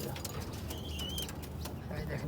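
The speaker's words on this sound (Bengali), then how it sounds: "দেখেন কবুতর" A male White Beauty Homer pigeon coos softly in a low, murmuring rhythm against background noise, with a brief faint whistle in the middle.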